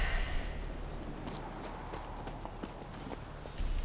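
Horse hooves clip-clopping in The Witcher 3: a quiet, fairly steady series of hoof strikes over soft ambient background, fading in and out with no speech over it.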